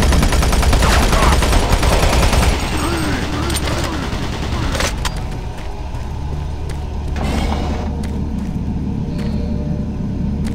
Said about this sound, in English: Warning, automated turret guns.